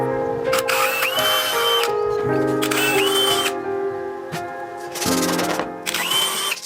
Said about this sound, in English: then we're gonna take a 3/16 inch drill bit and drill at the center lines of all these mortises